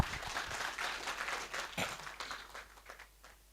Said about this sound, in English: I like all of us just to give each other a round of applause